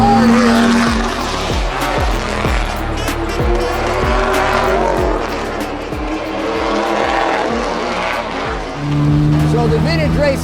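A 1952 Jaguar XK-120 pushes hard out of a corner at Raceway Laguna Seca, its engine roaring loud and close through repeated gear changes and rising revs, with a voice talking underneath.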